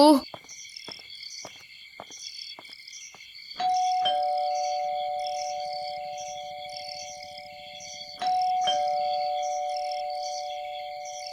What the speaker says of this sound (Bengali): ঝিঝি ডাকছে চারিদিকে, কখনো আস্তে কখনো জোরে।